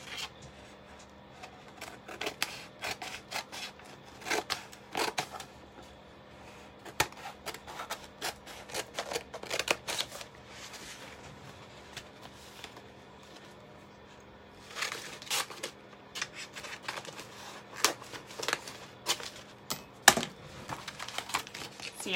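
Scissors cutting a sheet of contact paper for a tumbler project, heard as a series of crisp, close snips and rustles in bursts with short pauses between them.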